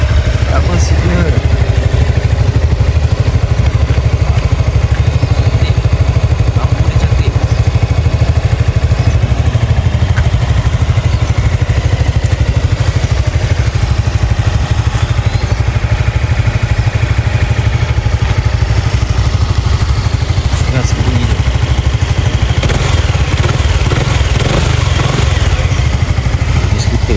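A Honda Forza 250 scooter engine runs at a steady idle close by, a continuous low mechanical hum with faint clatter, while someone talks over it.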